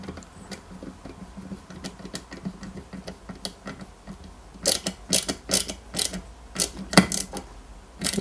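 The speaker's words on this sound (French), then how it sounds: "On y met deux vis LM à l'intérieur." Small screws are driven into the dashboard of a 1/8 scale Subaru Impreza WRC 2003 model kit, giving close, crisp clicking and ratcheting ticks that grow louder and denser in the second half.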